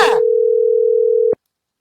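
A telephone tone on a call sounds as one steady electronic hum, held for over a second before cutting off abruptly with a click, then silence.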